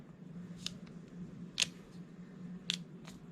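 Scissors snip open small plastic bags of diamond painting supplies, four crisp separate cuts spaced about a second apart, close and quiet over a low steady background hum.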